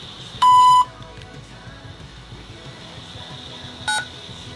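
An automated appointment phone line for a Hong Kong outpatient clinic sounds a clear electronic beep, one longer tone followed a few seconds later by a shorter one, over a quiet line hiss.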